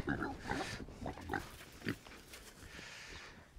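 Pigs grunting in short, irregular bursts at close range on a homestead farm, several snorty grunts clustered early and one sharp squeal-like burst near the middle, then quieter rustling.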